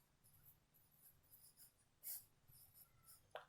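Pen strokes on paper while writing a word in a Sanskrit lesson, a run of faint scratchy strokes in short bursts with brief pauses, heard close and alone with no talking over it.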